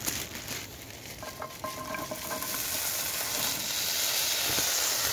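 Diced potato frying in a pan on a camp stove inside a hot tent in the rain, a steady close sizzle and hiss that grows slightly louder, with a few faint clicks and stirring noises early on.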